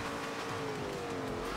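A Bowler EXR off-road racer in Forza Horizon 2 at full speed over a jump, its engine a steady, loud, continuous roar with tire noise throughout.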